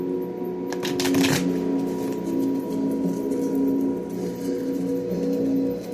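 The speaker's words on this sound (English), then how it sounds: "I'm going to do a quick shuffle" Deck of oracle cards being shuffled by hand, a quick burst of riffling and flicking followed by softer sliding and tapping of cards, close up with no talking.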